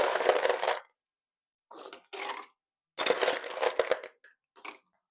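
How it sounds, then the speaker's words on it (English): Ice tumbling into a metal cocktail shaker tin holding bourbon and other ingredients, heard as several separate bursts of crunchy rattling and clatter, fairly close, with no talk over it. "We're going to add ice."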